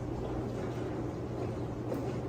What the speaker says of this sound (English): My dishwasher is on.